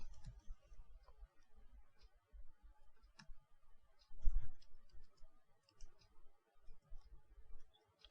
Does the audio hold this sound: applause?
no